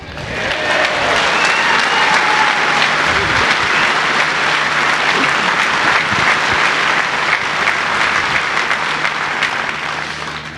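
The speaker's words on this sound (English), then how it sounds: "Thank you for your applause" Loud, sustained applause from a crowd at a Brexit Party political rally in Fylde, a dense roar of clapping holding steady for about ten seconds with faint voices mixed in.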